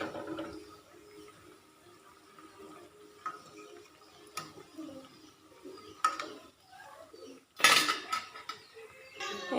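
Metal utensils clink and scrape against a frying pan as fried lentil fritters are lifted out in a home kitchen, scattered taps and one louder clatter near the end, with faint background noise.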